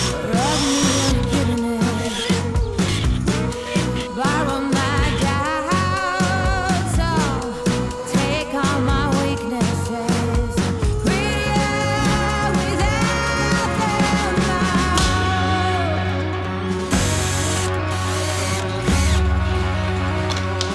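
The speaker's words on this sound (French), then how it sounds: "je fais plein de trous à la scie cloche" A hole saw bores through poplar wood with a sustained, whining power-drill drone, pitch rising and dipping as the bit bites and frees, continuous and loud with no talking.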